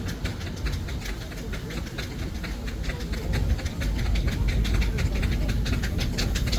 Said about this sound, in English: This is a Burl Showman's road locomotive, built in 1924